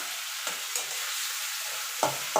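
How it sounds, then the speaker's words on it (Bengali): Spice paste with red chili powder cooks down in hot oil, a continuous gentle sizzle with occasional stirring knocks and a louder scrape near the end. "এবার মশলাটা ভালো করে কষিয়ে নিতে হবে যতক্ষণ মশলা থেকে তেল না ছেড়ে আসছে"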